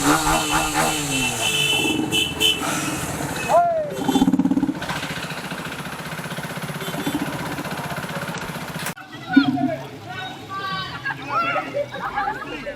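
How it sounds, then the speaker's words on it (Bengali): Engines of a large group ride of some two hundred motorcycles idle and rumble on a rainy day, with a revving burst near the end and voices talking over the mechanical drone. "দুশোটা বাইক।"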